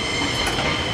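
The Venice Simplon Orient Express running on its rails, a steady rumbling roll of wheels and carriage noise from inside the train, with no talk.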